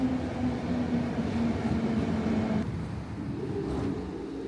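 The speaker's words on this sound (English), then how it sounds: "And here comes the train." A train pulls into a station on the line to Szentendre near Budapest, with a steady low rumble and a sustained tonal hum that drops slightly partway through, heard up close.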